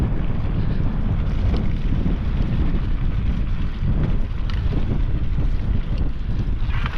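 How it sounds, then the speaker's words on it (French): Strong wind buffets the microphone on a mountain trail in the Basque Pyrenees, a continuous loud low roar with gusty rumble for the whole stretch and nothing else audible. "il y a trop de vent"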